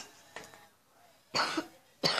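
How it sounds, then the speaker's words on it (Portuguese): Coughing from a person with a heavy cough: a faint cough followed by two loud, close, harsh bursts, the second pair coming about half a second apart, with no speech. "eu tô com muita tosse"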